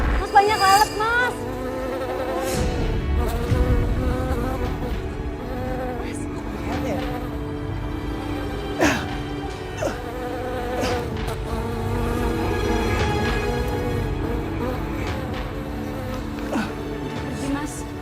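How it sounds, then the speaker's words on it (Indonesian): Many flies buzz in a steady, continuous drone that fills the scene, with voices talking over it. "Mas banyak lalat, Mas."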